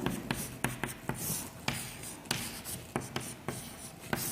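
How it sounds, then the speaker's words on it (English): Pen writing out a 2 by 2 determinant by hand for a class XII maths lesson: scratchy strokes with sharp taps as the pen lands, close and fairly loud, in an irregular rhythm without speech. "First I will write the determinant."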